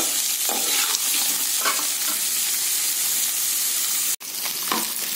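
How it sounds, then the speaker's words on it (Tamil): Onions sauté in hot oil in a pan for tamarind rice, giving a continuous close sizzle. Stirring scrapes are heard throughout, with a brief cut in the sound partway through. "கொஞ்சம் மீடியம்ல வச்சு வதக்கிக்கலாம்."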